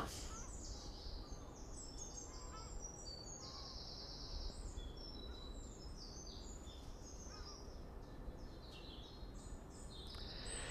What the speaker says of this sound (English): let's just close with some wonderful bird song.